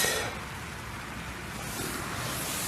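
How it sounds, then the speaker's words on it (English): Heavy overnight rain on a 3F UL Gear Zhengtu 1 tent, a dense continuous hiss of drops on the fabric with a steady, even level throughout; no voices. "it's been raining absolutely all night, heavy rain all night"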